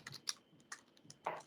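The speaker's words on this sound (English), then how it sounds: "I hear typing." Computer keyboard typing in a quiet room, a few irregular bursts of keystrokes with short pauses between them, fairly faint and close, no voices.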